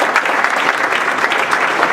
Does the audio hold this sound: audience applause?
yes